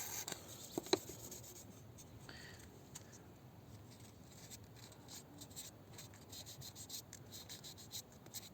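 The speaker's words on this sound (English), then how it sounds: "blend in the newly lacquered paint to the original paint using soapy water and 1200 grit sandpaper" Fine 1200-grit sandpaper rubs back and forth over freshly lacquered paint on a Range Rover L322 wheel arch with soapy water, a faint, close, continuous wet scratching with a few small ticks near the start.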